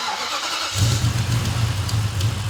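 A Nissan V8 with eight throttle bodies, around 500 horsepower, on its first start rumbles into a deep, steady idle with a throaty low burble and a leaky header, close by and fairly loud, with no talking.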